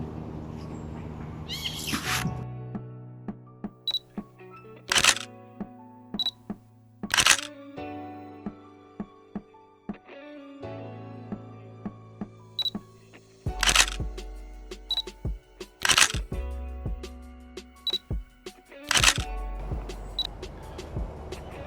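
Camera shutter clicks sound off repeatedly while photographing red squirrels, some in quick bursts, sharp and close over soft background music.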